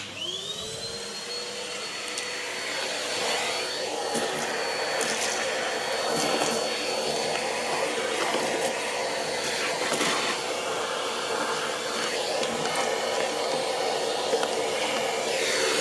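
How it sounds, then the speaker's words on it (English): A Henry Hoover vacuum cleaner sucking insulation out of a car engine, spinning up with a rising whine, then holding a loud, steady roar with intermittent rattling and sucking surges throughout. "I'm going to try it with a hoover."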